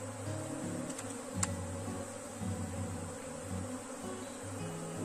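Honey bees from a swarm during hive setup, a steady, dense buzzing hum that stays close and even throughout, with no talking.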